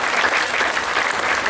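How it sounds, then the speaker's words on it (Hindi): An audience at a Hindu spiritual discourse and devotional singing event claps together in loud, dense applause that holds steady throughout, with a voice faintly beneath it. "बहुत बहुत सुंदर जोरदार तालियों के साथ आप धन्यवाद करते जाइए ताली चाहिए।"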